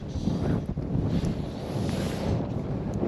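Strong wind gusting across an open bank during winter fly fishing, a continuous low roar and buffeting rumble close against the microphone, steady throughout with no voices.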